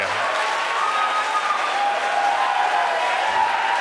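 A SpaceX team applauds and cheers continuously at a Starlink satellite deployment, a dense wash of clapping with whoops, heard from a short distance.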